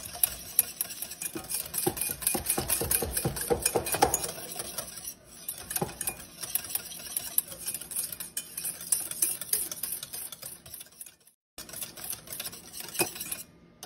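Gelatin mixture for an entremet with green apple mousse being stirred in a bowl, a steady run of close scraping and clinking strokes that pauses briefly near the end.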